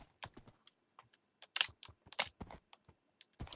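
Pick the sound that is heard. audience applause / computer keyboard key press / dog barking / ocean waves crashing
computer keyboard key press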